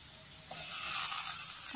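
Chopped carrot frying in a pan gives a steady, fairly loud hiss of sizzling oil, swelling slightly halfway through and continuing evenly with no voices.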